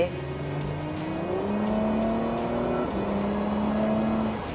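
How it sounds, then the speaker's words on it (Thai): A Porsche Cayenne engine in Sport Plus mode, geared down, revs steadily with rising and settling tones, close and continuous for several seconds; no one speaks. "พอหมุนเป็นขั้นสุดก็คือเจ้า Sport Plus เนี่ย นี่นะคะ เกียร์ก็ทดลงมาอีกหนึ่งแล้วก็ รอบนี่คือ เร่งรอแล้วนะคะ"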